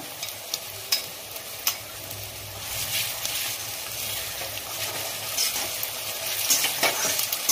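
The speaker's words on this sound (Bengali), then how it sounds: "এই পেঁয়াজটা আমি আধা ভাজা করে নিয়েছি। এরপরে আমি এক এক করে সব মশলা টসলা দেবো।" Half-fried onions with spices stirred in a pan for a Jamai Sashti goat meat curry, giving a steady close sizzle with scraping stirs and a few sharp utensil clicks, with no talk.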